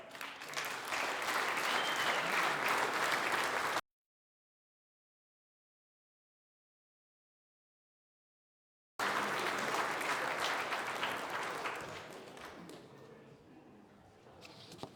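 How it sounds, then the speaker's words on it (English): An audience applauds at a boxing hall of fame induction ceremony. Dense, loud clapping stops abruptly, returns after a long gap and then fades gradually as the clapping thins out. "another huge round of applause"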